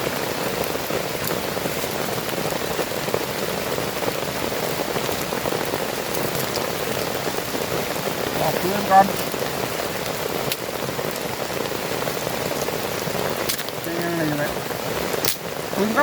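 Rain falls steadily in a humid jungle, a dense, even patter on leaves and surfaces that continues throughout, with faint voices under it.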